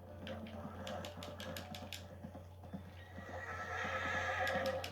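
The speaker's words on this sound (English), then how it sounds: "my horse is freaking down. Freaking out. Calm down, horse." A panicked horse neighs and whinnies in a video game, sharp shrill cries standing out over hoof clatter and a low steady hum, with someone talking underneath.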